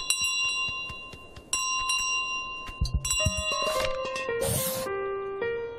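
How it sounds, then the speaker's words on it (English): A hand bell carried by the goose in Untitled Goose Game rings repeatedly and clearly in the foreground, its bright clangs layered over game music, with a louder burst of jangling near the end. "I have my bell!"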